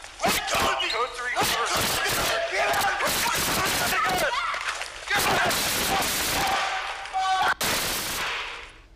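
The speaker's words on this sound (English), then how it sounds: "A warning first, you do hear gunshots." Rapid bursts of gunfire during a deadly police shooting at a middle school in Eugene, caught on an officer's body camera, crack out in dense volleys amid shouting voices and commotion.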